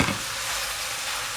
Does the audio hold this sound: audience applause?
no